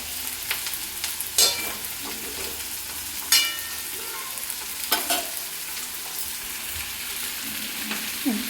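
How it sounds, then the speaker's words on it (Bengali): Water hits a hot pan of fried taro and tomato, a steady sizzle with intermittent sharp bursts of spitting and stirring scrapes throughout. "এবার আমি এতে দিয়ে দেবো পরিমাণ অনুযায়ী জল"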